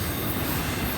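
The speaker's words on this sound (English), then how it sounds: "Oh, it's a Canadian Pacific one though. Canadian Pacific well car." A Canadian Pacific railroad well car rolling past on a rainy day, a steady, loud rumble and clatter of wheels on track close by, no voices.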